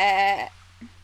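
A cartoonish goat bleat from the video game Goat Simulator: one loud, drawn-out bleat lasting about half a second, then fading into quiet game background with a faint short blip near the end.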